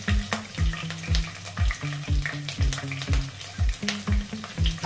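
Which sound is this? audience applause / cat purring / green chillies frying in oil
green chillies frying in oil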